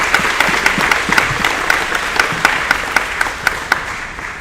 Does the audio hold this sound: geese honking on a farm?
no